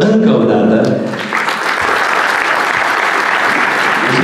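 Sustained applause from the audience at a business meetup in Bucharest, a dense, steady wash of many hands clapping. It holds at an even level for several seconds with no voices above it.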